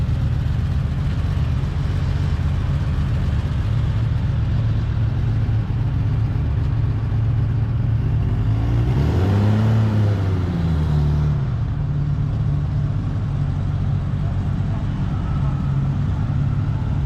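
A Porsche sports car idles with a low steady rumble at an outdoor cars-and-coffee gathering, then revs once, rising and falling in a short swell before settling back to idle.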